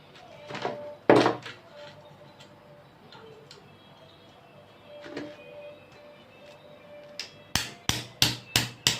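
Nails being hammered: a few scattered knocks and taps early on, then a quick run of about six sharp, loud strikes close by at the end.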